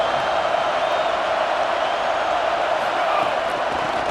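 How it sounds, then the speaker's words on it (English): Steady, dense roar of a stadium crowd in the College Football 27 video game, a loud continuous wash of cheering throughout, with commentary voices talking over it. "This place is roaring, and it's going to be so hard to operate under these conditions."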